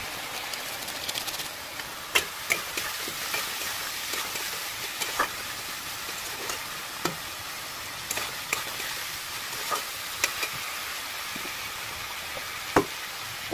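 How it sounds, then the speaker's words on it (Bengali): Spices including cumin and chilli powder being stirred and fried in a pan, a steady sizzle with scattered scraping clicks from the spoon, close and continuous. "নেড়ে চেড়ে ভালো করে মশলাটাকে কষিয়ে নেবে"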